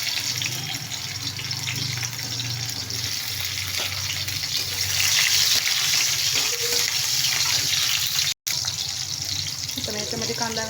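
Green chillies dropped into hot oil with browned garlic for a methi and moong dal dish, giving a continuous loud hiss and crackle that swells midway, briefly cuts out, then resumes.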